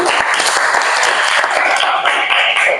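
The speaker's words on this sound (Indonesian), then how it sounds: "Oke, tepuk tangan dulu." A classroom of elementary school pupils applauds steadily, dense overlapping claps holding at a loud, even level throughout.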